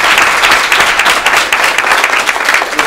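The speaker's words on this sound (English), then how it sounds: "Let's give our panelists a round of applause." Audience applause for the panelists at the close of a sports-and-leadership panel discussion, loud sustained clapping from a full room, dense and steady throughout.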